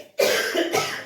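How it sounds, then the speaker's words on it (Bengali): A person coughs twice indoors, close and fairly loud, with a harsh burst followed by a second shorter cough after a brief pause. "কি হয়েছে কাশি হচ্ছে কেন"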